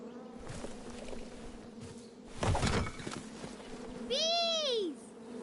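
Bees buzz in the King's Quest video game, a fluttering insect drone beneath a steady hum of game music, with a brief louder burst midway and a curving chirpy tone near the end.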